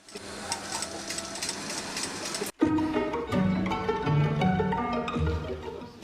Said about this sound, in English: The horsehair ribbon is then sewn to the underskirt.